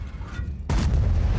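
A tank cannon fires once in the World of Tanks video game, a sudden close, loud boom that cuts in after a moment of quieter ambience and rumbles on briefly.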